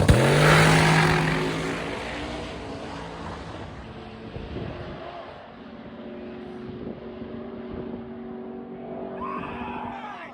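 Race cars in a Fast 8 final at Rocky Mountain Race Week roar past with loud, rising and falling engine notes, shifting tones and revs layered over a steady background rumble, with no talking.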